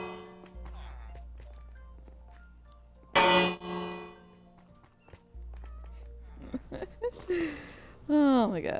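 Bells ring in a video game, a bright clanging strike with a ringing decay amid other game sounds and a low hum, with a voice speaking intermittently.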